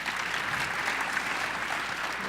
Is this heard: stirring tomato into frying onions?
no